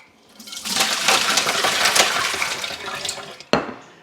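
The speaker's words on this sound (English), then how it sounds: "So I'm going to drain the ice water off of these eggs." Ice water poured off a pot of boiled eggs: a steady splashing, gurgling pour runs close for about three seconds, then a short clunk as the pot is set down. No talking.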